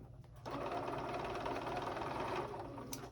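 A sewing machine top stitching a fabric pouch starts up and runs at an even, steady hum for a few seconds, then stops, heard close.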